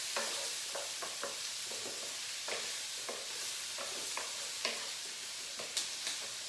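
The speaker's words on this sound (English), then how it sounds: "And then in can go those 3 cloves of minced garlic. Stir those together." Three cloves of minced garlic sautéing in a pan as they are stirred, a bright continuous sizzle punctuated by repeated spoon scrapes and taps.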